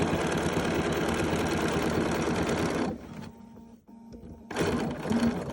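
Bernina sewing machine with a 10D foot top stitching quilt binding, a close steady rapid stitching whir that stops for about a second and a half, then starts up again.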